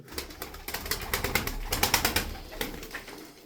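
Malatya tumbler pigeons make a rapid series of close flutters and soft wing claps, about two dozen in a steady rhythm, with low cooing underneath and no talk.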